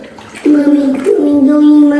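Water sloshing in a bathtub during a baby's bath play with a duck toy, a brief swirl of splashing starting suddenly and continuing close by, with a voice mixed in.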